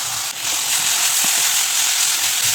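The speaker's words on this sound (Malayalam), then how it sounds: "ഇനി നമുക്ക് നമ്മൾ എടുത്ത് വെച്ചിട്ടുള്ള തക്കാളിയും കൂടെ ഇതിലോട്ട് ഒഴിച്ച് കൊടുക്കാം" Chopped tomatoes tipped into a hot oiled pan for rasam, giving a bright, steady hiss of sizzling that holds evenly throughout with a few faint clinks, no speech.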